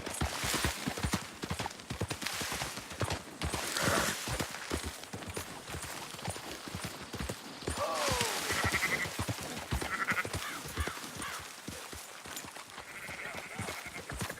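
Sheep bleating repeatedly alongside the steady clip-clop of horse hooves while herding a flock in Red Dead Redemption 2, the bleats and hoofbeats close and layered over a constant outdoor bustle.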